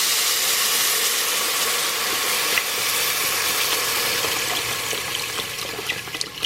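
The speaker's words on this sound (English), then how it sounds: "I'm going to go ahead now and add my broth" Chicken broth from a 32-ounce carton pouring steadily into a pot of stirred flour mixture for cream of broccoli soup, a continuous close liquid rush and hiss with faint clinks, no talking.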